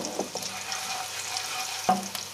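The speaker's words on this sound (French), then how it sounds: "dans le wok que j'ai fait cuire mes crevettes, je mets mon ail, que je vais bien faire sauter" Garlic sautéing quickly in a wok previously used for cooking shrimp, a close, faint crackling sizzle with small clinks and scrapes of stirring.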